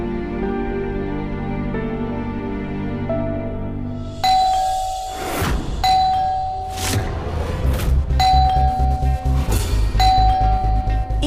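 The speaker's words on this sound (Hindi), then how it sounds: "ये कौन आ गया और ऐसे कौन घंटी बजाता है?" A doorbell in a home rings over and over, its bright ding-dong chimes repeating in fast succession against a continuous musical drone.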